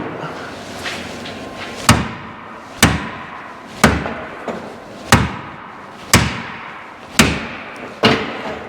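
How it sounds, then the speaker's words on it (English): A big hammer strikes the metal body of a '55 Chevy Nomad again and again, eight or so heavy clanging blows about a second apart, close and loud, with no talking. "That one's gonna need some hammering."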